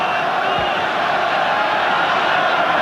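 Roaring stadium crowd at the 1989 Australia versus British and Irish Lions rugby test in Sydney, a dense continuous wall of cheering and shouting, loud and unbroken throughout, with a commentator's voice under it.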